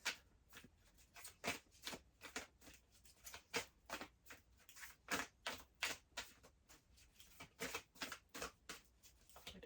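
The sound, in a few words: cards being shuffled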